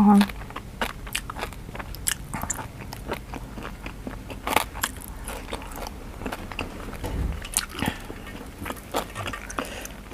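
Crispy skin on a deep-fried Thai pork leg being bitten and chewed up close, with repeated crunchy crackles scattered through the stretch over a low background; speech is present under the eating.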